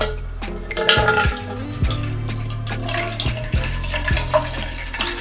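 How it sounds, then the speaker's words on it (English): Water poured into a pot for a simmering ritual, a steady close splashing stream with gurgling and bubbling shifts over several seconds, with no talking. "we're gonna go ahead and pour our water in"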